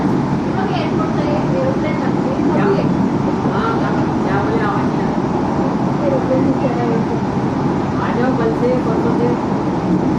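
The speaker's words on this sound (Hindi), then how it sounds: "फिर ट्रेन जाना शुरू हो गया है।" A Nagpur Maha Metro train pulls away inside the carriage, a steady loud rumble and rolling hum filling the cabin while a voice talks over it.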